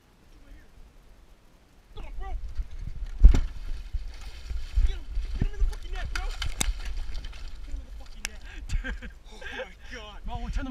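Outboard boat motor running steadily on a bass fishing lake, a low continuous drone under excited shouting and talk from people aboard.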